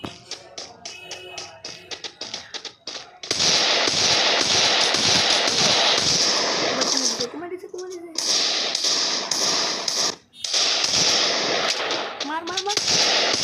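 Rapid bursts of gunfire from a mobile shooter video game, loud and dense, mostly continuous with brief pauses, while a voice talks over the action.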